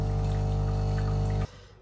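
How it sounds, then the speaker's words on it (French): A washing machine partway through its rinse cycle gives a steady, close mechanical hum with faint watery swishing, then the drone cuts off abruptly near the end, leaving a quieter room tone. "La machine est en plein rinçage."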